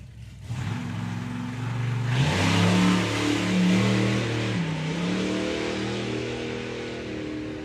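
Drag racing cars at a drag strip rev their engines loudly, a dense roaring with rising and falling pitch that holds steady at close range throughout, with no talk over it.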